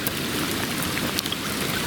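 Rain hisses down steadily at a flooded carp fishing swim, a dense wash of drops pattering on surfaces and water with a few sharper taps, fairly close and without talking.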